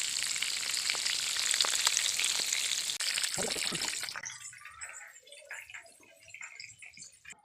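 Pangas fish frying in hot oil, a broad hissing sizzle with clicks for about four seconds, then cutting off to quieter intermittent crackle and clatter, no voices.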